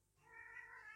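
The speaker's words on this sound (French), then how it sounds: "Alors, j'ai un chat râleur." A grumbling house cat lets out one drawn-out, complaining meow, close and fairly quiet, rising after a brief silent start.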